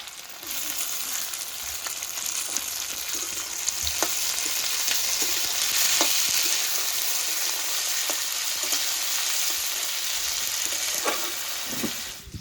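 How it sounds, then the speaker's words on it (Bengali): Onion and capsicum frying in a pan for a chicken curry, with a steady close sizzle all the way through and a few soft clicks from stirring. "পেঁয়াজটা ক্যাপসিকামটা ভাজা হয়ে গেছে"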